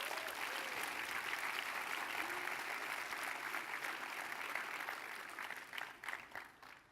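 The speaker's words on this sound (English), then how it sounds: "Let's give all the teams a round of applause." An audience applauds the teams at a startup pitch competition finals, a sustained wash of clapping that stays even throughout and thins slightly toward the end.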